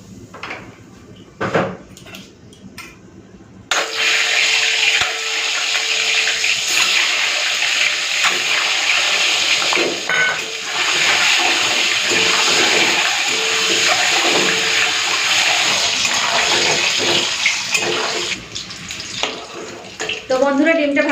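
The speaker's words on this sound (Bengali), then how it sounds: "ডিমটা ভাজা হয়ে গেছে" An egg, seasoned with salt and turmeric, frying in mustard oil in a pan, a loud, close hissing sizzle that starts abruptly after a few quiet seconds with faint clatter and continues steadily, then fades near the end.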